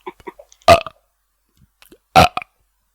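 Two loud, deep burps from a woman, each a short rough blast about one and a half seconds apart, with small clicks and faint mouth noises between them.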